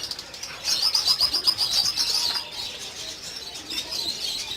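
Lovebirds, budgies and cockatiels in a breeding aviary chirp and tweet in quick, high bursts with some fluttering of wings, moderately close and lively, without any talking.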